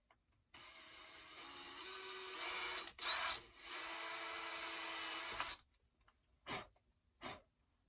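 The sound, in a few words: power drill drilling a hole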